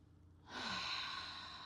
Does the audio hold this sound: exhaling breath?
yes